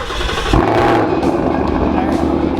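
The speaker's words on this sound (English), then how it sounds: "Loudest exhaust system I've ever heard." A loud car exhaust on a cold morning start idles with a deep, steady rumble that swells suddenly and stays heavy, with voices talking over it.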